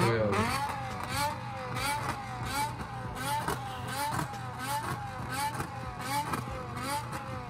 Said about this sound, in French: La sonorité du V10, mais wow, c'est incroyable.